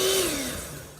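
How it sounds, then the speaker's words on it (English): A handheld electric mixer whirs steadily through room-temperature butter and sugar, a loud motor whine with a dipping pitch that gradually fades over about a second. "I'm going to go ahead and use my hand mixer"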